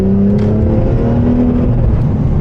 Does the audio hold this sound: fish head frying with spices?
no